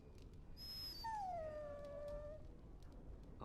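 A dog in the video game Dragon Age Origins gives a short whimper and then a single long, falling howl, clear and alone over quiet background ambience.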